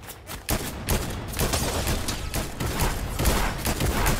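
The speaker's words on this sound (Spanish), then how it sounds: "¿De qué lado están disparando, Bastián?" Dense, continuous gunfire in the Fortnite video game, overlapping bursts and rapid shots crackling loudly without pause, like a chaotic firefight nearby.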